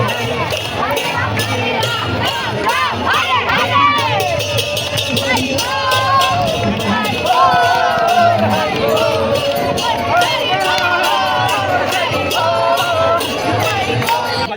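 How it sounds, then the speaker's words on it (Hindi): A large crowd of ISKCON devotees performs a kirtan and dances at Jagannath Puri. Loud, continuous group chanting and singing blends with dense crowd hubbub for the whole stretch. "वो लोग कीर्तन करने के लिए आ गए। अचानक से बहुत भीड़ हो गई"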